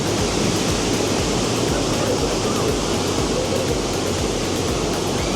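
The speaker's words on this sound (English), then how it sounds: "take a second picture of those water waves coming up" Ocean waves surge up onto the shore in a steady, loud, unbroken wash of noise close by, with no pauses between breakers.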